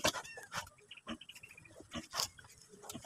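A wild boar sow grunts and squeals softly while giving birth, with low snuffling grunts and piglet-like high squeaks at close range, faint and intermittent.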